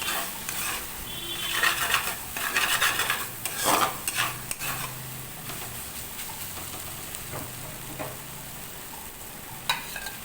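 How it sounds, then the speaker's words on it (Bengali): Maggi noodles fry in a little refined oil over a high flame, a steady close sizzle under repeated scraping and clattering as a spatula stirs the pan, busier at first and calmer later. "এরপরে একদম ফুল ফ্লেমে দিয়ে, মানে হাই ফ্লেমে দিয়ে এটাকে পুরো ভেজে নেব"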